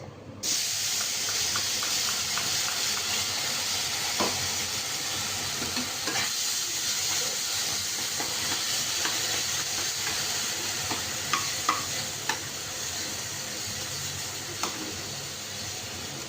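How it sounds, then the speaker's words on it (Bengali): Onions fry steadily in a pan of oil for an egg curry, a continuous close sizzle and hiss with occasional light scrapes and clicks of stirring, no voices. "এই পেঁয়াজটা সুন্দরভাবে হালকা হালকা করে ভাজা হতে থাকবে"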